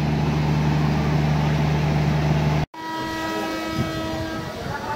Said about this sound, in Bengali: আর আমাদের ট্রেন ছেড়ে দিল।